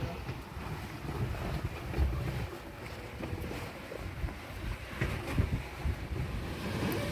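A sailboat surfing waves in a squall in the Caribbean Sea, with steady rushing water along the hull and gusty wind buffeting the microphone throughout.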